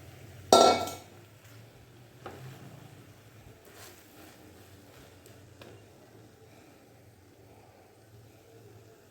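A metal utensil strikes a pan once, sharply and near, while masala bread is tossed and mixed. Fainter clinks and soft scraping follow over a quiet background.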